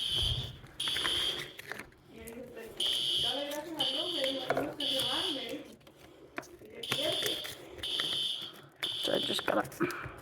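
A building fire alarm sounds during a zone test, its high electronic tone pulsing on and off in repeated bursts while a person talks over it, with indoor room echo throughout.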